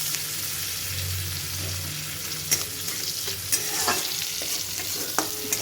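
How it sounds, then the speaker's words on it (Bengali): Chopped onion frying in oil for a mustard fish curry, a steady close sizzle with a few sharp spatula scrapes and taps against the pan, and a faint low hum underneath early on. "একটু ভাজা ভাজা হোক।"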